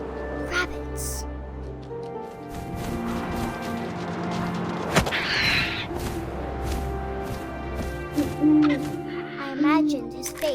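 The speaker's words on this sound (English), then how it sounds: "And suddenly, I was an owl." An owl hooting in the video game What Remains of Edith Finch, low hoots set among game music and effects, with a narrator speaking over parts of it.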